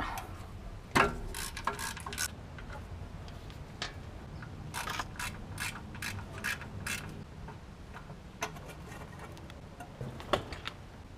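Socket wrench removing a torque converter bolt during a 4R70W transmission replacement on a Ford E250 van, giving close, repeated bursts of sharp ratcheting clicks with short pauses between them and no talking.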